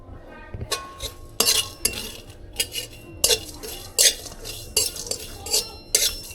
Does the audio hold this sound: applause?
no